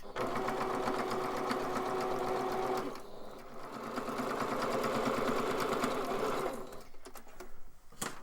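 A sewing machine back-stitches a fabric face mask, running in a fast steady whir for a few seconds, pausing briefly, then running again before slowing to stop, close and moderately quiet.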